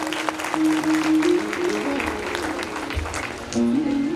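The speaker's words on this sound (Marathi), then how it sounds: "सगळ्यांसाठी टाळ्या पण आहेत" An audience at a Ganesh festival Ganpati Mahapuran religious discourse claps steadily throughout, moderately loud, while a sustained voice sounds over the applause.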